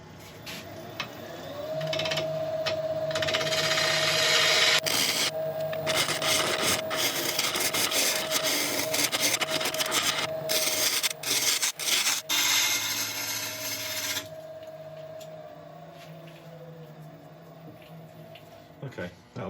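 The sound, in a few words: turning heavy wood on a lathe, cutting a curve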